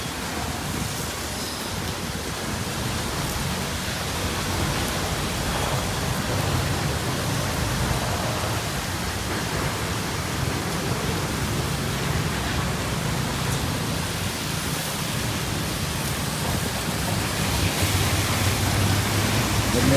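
Heavy non-stop rain pours down in Chennai during Cyclone Fengal, a dense, steady broadband hiss that stays loud and unbroken throughout with no voices.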